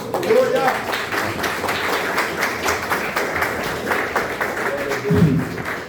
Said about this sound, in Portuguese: Você pode aplaudir a Deus para ver.